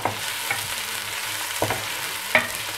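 Carrot, chili and ginger frying in oil for an Afghan pumpkin soup, a steady bright sizzle with a few sharp stirring clinks and scrapes of a utensil in the pan.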